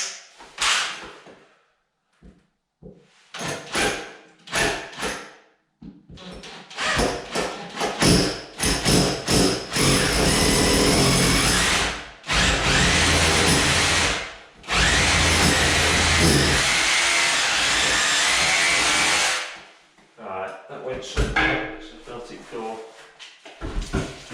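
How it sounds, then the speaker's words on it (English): A power drill whirs in several sustained bursts of a few seconds each, close by, between sharp taps and clunks of handling. "Then take my drill,"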